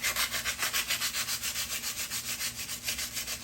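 Rhythmic back-and-forth sanding scrapes burrs off a metal garage door spring tube, about six strokes per second in a steady, close, even pattern.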